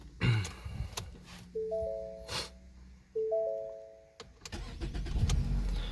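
An LPG-equipped car's engine cranking and starting after the ignition is switched on, with electronic chime tones and a short starter whir, then the engine settling into a steady idle.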